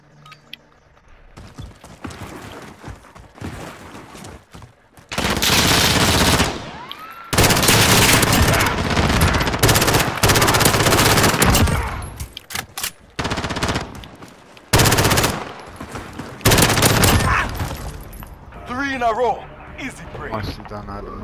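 Gunfire in a Call of Duty Gunfight round, with loud bursts of rapid automatic fire and single shots in several separate stretches, some near and some quieter, while players talk over the action.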